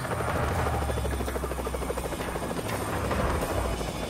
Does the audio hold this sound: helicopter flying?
yes